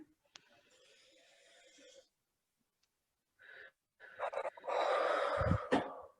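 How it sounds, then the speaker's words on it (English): Someone draws a big, deep breath in, a breathy inhale that fades, then after a short pause a louder, rougher rush of air with wheezy, gasping texture, close to the mic. "And a big breath in"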